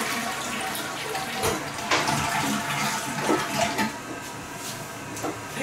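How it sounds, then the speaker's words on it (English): A toilet flushes in a home bathroom, a loud steady rush of water filling and draining throughout, close by, with no talking. "close the toilet, and then flush the toilet"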